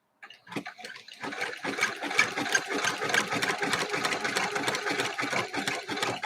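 A sewing machine stitches a serpentine quilting pattern on a three-yard quilt, starting after a brief pause and then running as a steady, close, rapid mechanical buzz to the end.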